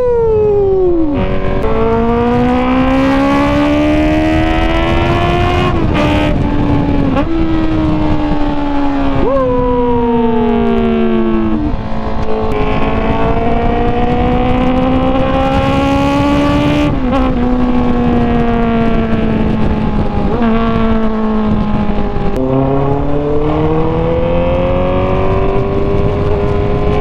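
A Honda CB650R motorcycle fitted with an Ixil Carbon Extreme exhaust revs hard and close, its loud engine note climbing and dropping in repeated sweeps with no pauses between them.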